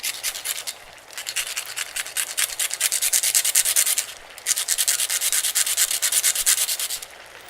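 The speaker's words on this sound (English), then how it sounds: "I think it's worth it to take the time to go ahead and grate the cinnamon fresh" A cinnamon stick grated fresh on a grater, two long bursts of fast rhythmic rasping strokes close to the ear, with a short pause between them and no voices.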